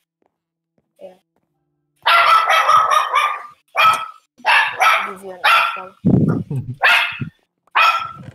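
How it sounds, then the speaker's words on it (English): Kiwi, a dog in a Minecraft game, barks in repeated bright, loud bursts with short pauses, punctuated by a brief low thump and mixed with a player's talk. "Oops, Kiwi is barking again."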